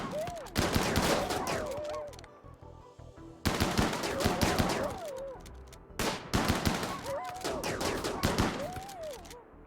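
Chain shotguns fire in rapid bursts in the video game RimWorld, three dense volleys of loud blasts separated by brief pauses, with faint talk in the background.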